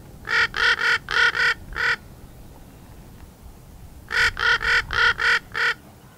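Ravens give common calls between mated pairs across nearby territories: two clear bursts of five or six hoarse, evenly spaced caws, loud and close, separated by a quiet gap, with no talk.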